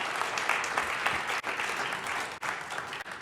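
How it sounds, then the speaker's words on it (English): A congregation at a Sunday worship service claps together in steady, full applause that fills the room, with a couple of brief gaps before it carries on. "Give yourselves a round of applause"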